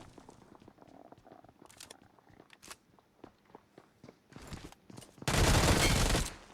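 Gunfire in a video game: quiet footsteps and scattered shots at first, then a dense, loud burst of continuous fire near the end.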